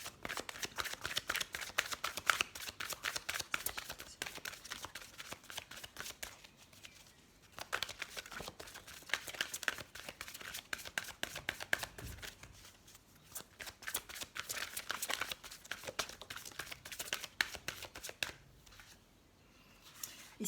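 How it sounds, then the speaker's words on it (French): Heart chakra oracle cards are shuffled by hand in repeated bursts of crisp riffling and sliding, close and clear, with brief pauses between rounds. "Alors on va prendre quelques cartes de l'oracle des chakras du cœur."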